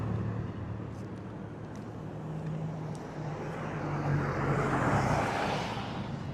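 Street traffic on Front Street in Lahaina, a continuous roadway rumble of passing vehicles that swells toward the end as one draws nearer.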